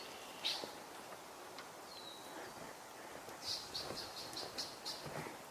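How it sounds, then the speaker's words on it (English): Red-winged blackbird calls repeating in a quick series of short, sharp notes at moderate distance, with other faint bird chirps and light rustling in an open outdoor setting. "what you're hearing now are red-winged blackbird vocalizations"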